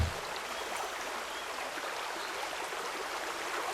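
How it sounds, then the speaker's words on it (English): Steady, broadband rushing of waterfalls fills an ambient scene in the video game Life(Forms), a continuous even wash of falling water with no pauses. "So you can hear the waterfalls basically anywhere here, and it's stereo sound."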